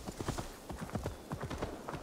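Horse hooves galloping in Assassin's Creed Valhalla, a steady rapid clip-clop rhythm of repeated hoof strikes at moderate loudness, continuous throughout with no talk.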